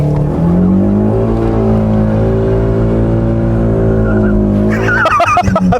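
BMW E46 Touring, lowered, held in a long first-gear drift: engine holds a steady high rev drone for several seconds with tire squeal layered on top, then a burst of scrabbling, screeching tire noise at the end, loud and close.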